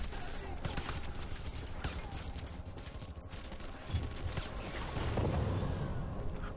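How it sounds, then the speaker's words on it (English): Explosions and rapid gunfire ring out in the shooter video game Wanted: Weapons of Fate, with dense crackling bursts and a few heavier booms at a moderate, fairly quiet level, and voices mixed in underneath. "Yeah, explosions."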